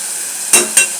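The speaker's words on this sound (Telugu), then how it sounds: "అల్లం వెల్లుల్లి పేస్ట్, టమాటాలు, కొత్తిమీర అన్నీ వేసేసాను. అన్నీ ఫ్రై అవుతుంటాయి." Ginger garlic paste, tomatoes and coriander fry in oil in a pan for a chicken biryani masala curry: a steady hiss of sizzling broken by two short, sharp scraping stir strokes close by.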